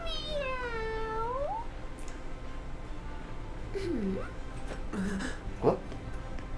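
A stray cat in the video game Tales of Graces f gives a long falling meow, followed by several shorter mews, fairly close over quiet game background.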